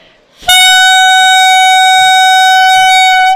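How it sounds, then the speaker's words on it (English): A single shrill, bright reed tone blares out and holds steady for about three seconds, loud and close, like a clarinet mouthpiece and barrel played alone. "We're going to do a little I Play, You Play on just our mouthpiece and barrel."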